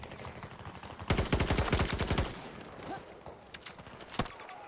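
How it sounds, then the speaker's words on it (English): Rapid burst of gunfire in the shooter game Battlefield 2042, a loud string of closely spaced shots lasting about a second, followed by a few sparser single cracks against steady background battle noise. "Where are we getting sniped from?"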